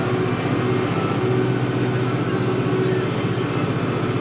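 A Kubota L6060 tractor dragging a land leveler over wet dense-grade gravel on a Kentucky driveway, a steady, close, low engine drone with a continuous rumbling grind that holds without break.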